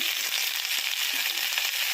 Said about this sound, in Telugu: గోంగూర వేయించుకున్నాం